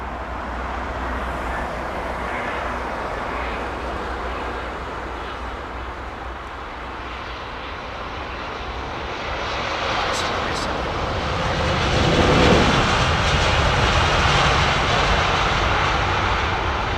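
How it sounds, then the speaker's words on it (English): An aircraft landing at London Heathrow Airport, a broad steady engine roar that swells louder toward the end, heard from outside with a voice speaking over it. "I love the slight delay as once the aircraft, the wheels actually touch the floor"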